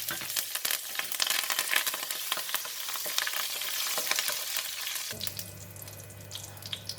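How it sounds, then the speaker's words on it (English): Curry leaves frying in hot oil with mustard seeds popping, a dense crackling sizzle under occasional stirring, with a steady low hum joining near the end. "When the mustard seeds start to pop, I'm going to put in the curry leaf."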